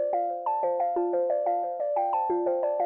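A bright synth melody runs through a dotted-eighth echo, its plucked notes and their delayed repeats interlocking in a steady bouncing rhythm, moderately soft with no voices.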